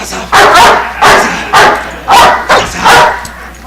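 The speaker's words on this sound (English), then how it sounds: "I don't really know who he's barking at right now." Loud, nearby dog barks come in a quick irregular run of about six or seven, some doubled, with little else around them.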